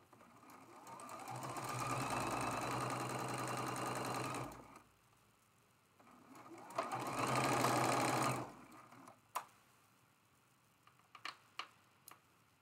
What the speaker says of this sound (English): we're just gonna stay right here at the sewing machine as we piece these together